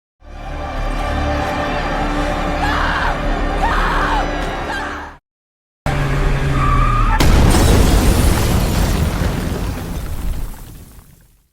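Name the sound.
explosion of a suicide bomb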